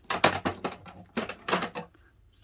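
Stamps rattle and clack in a drawer in a few quick bursts of knocking, close and fairly quiet, with pauses between the clusters.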